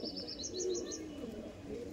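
Andhra pigeons give soft, low coos close by, alongside a quick series of higher chirps or squeaks early on, with no talking.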